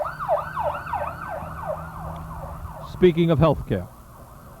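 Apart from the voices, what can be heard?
ambulance siren passing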